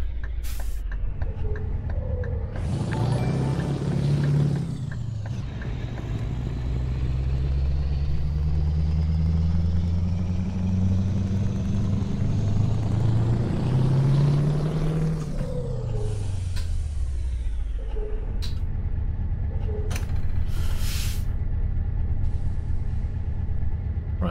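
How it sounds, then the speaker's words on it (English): A truck engine in Euro Truck Simulator 2 drives along a road, its loud drone rising and falling through gear changes, with sharp air-brake hisses near the start and toward the end, and no talking. "So at most now it tends to be just truck sounds."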